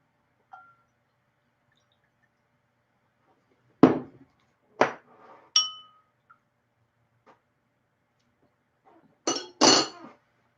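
Glasses clink together in a toast over root beer and tea drinks, a few sharp bright chinks spread out across otherwise near silence, the last pair close together.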